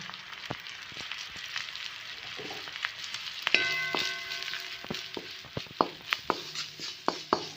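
Salt, turmeric, coriander powder and cumin powder fry in oil in a pan, with a low steady sizzle and a string of sharp spatula taps and clinks that grow more frequent toward the end.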